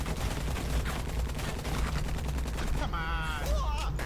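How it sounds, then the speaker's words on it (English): Machine gun fire in the rail shooter game Blue Estate, played on PC, a rapid rattling stream of shots that carries on throughout, loud and close, with a voice speaking over the end. "I got a machine gun"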